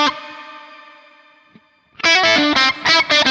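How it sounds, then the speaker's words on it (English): Electric guitar run through a Neunaber Immerse Reverberator shimmer reverb pedal with all controls at noon: a long sustained chord decays into a shimmering tail, then loud, choppy staccato chords ring out with a synth-pad-like wash. "It's like a synth pad following what you're playing together with a reverb effect."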